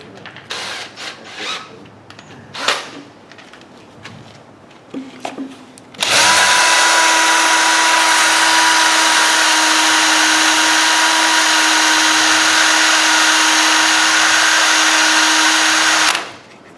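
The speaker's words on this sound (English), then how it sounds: "And now I'm going to take that off with the power sander." A power sander whines loudly and steadily for about ten seconds against a fresh-cut wood turning on a lathe, close and constant, after a few scattered knocks and clicks, then winds down.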